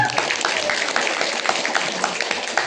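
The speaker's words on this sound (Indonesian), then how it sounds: "tepuk tangan buat kita semua." Crowd of roughly a hundred villagers applauding at a cultural festival in a Central Java village, scattered sharp claps over a busy background of voices and murmur.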